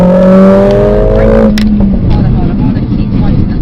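A Mercedes-AMG car accelerates on a track with a loud, close engine tone rising in pitch, then drops into a rougher, broadband rumble of road and engine noise. A voice talks briefly over it.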